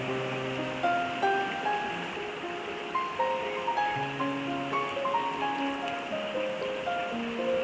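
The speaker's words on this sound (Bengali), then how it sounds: "আর তার সঙ্গে বয়ে চলা নদীর কুলকুল শব্দ" A mountain river runs over stones at Jogighat near Darjeeling with a continuous soft rushing wash, while scattered bird chirps and whistles ring out repeatedly above the water.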